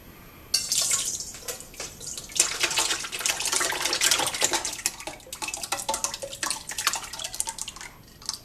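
Whey from homemade cream cheese drips and trickles steadily into a container, with light splashing and an occasional clink of kitchenware, fairly quiet and close, with no voices.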